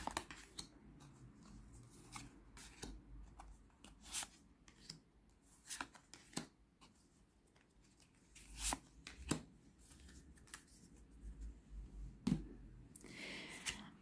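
Tarot cards being shuffled and dealt out for a pyramid spread, giving scattered soft papery riffles, slaps and snaps of cards laid on a table, close and fairly quiet with pauses between bursts.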